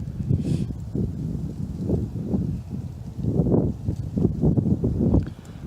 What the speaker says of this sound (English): It is really, really windy today.